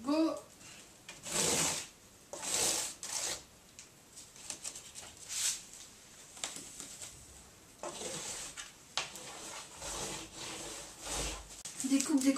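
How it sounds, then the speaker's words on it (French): Cardboard crosspieces for a homemade oval cardboard table being cut, with rough, rasping sawing strokes in irregular bursts close by and a voice speaking now and then. "Découpe des croisillons."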